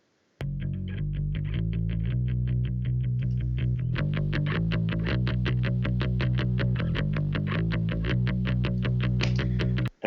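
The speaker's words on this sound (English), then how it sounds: "really, really transforming it to even more distortion" A heavily distorted bass guitar in a home studio recording plays a steady run of quick repeated notes with a gritty, processed tone, loud and continuous for about ten seconds.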